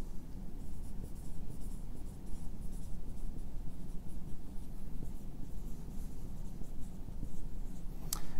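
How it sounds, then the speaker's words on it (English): Pen or marker scratching steadily across a surface while an equation is written out, a continuous close scribbling texture with no talk. "I'm gonna write my equation like that"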